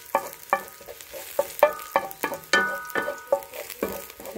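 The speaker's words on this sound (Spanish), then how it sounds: "Ya voy a empezar a freír la cebolla." Chopped onion frying with a spoon stirring it in a hot pan, a steady soft sizzle broken by a series of sharp scraping and clinking stirs, close by and with no talking.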